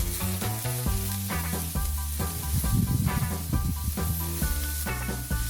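Onion and cabbage stir-fried in a hot pan for glass noodles, a steady sizzle with stirring scrapes, close but partly buried under loud, rhythmic background music.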